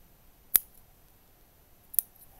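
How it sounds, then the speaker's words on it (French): Scissors snip off excess sewing thread while finishing a garment sleeve, giving two crisp, separate cuts about a second and a half apart against near silence. "je viens couper le surplus de mon fil"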